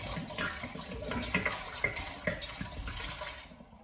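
Water running steadily through a filter into 5-liter jugs, a continuous splashing flow with occasional gurgles and clinks, close and moderate in level.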